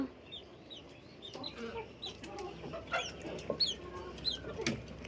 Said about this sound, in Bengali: এখানে ছোট মুরগি বাচ্চা, হাঁস বাচ্চা আছে